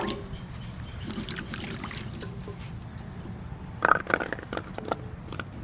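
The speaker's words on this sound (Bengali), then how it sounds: "আমড়া কটা এবার ধুয়ে নেব।" Peeled hog plums being rinsed in water in a wok, with soft sloshing and trickling throughout and a brief louder splash of handling near the end.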